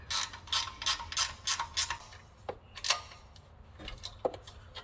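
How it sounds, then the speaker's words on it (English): A stubby ratchet clicks through quick bursts of short strokes as it tightens the exhaust manifold flange bolts on a Dodge Ram, close and crisp, with a few slower single clicks and pauses after the opening run. "I got a little stubby here, so we'll get in there and crank this one tight anyway"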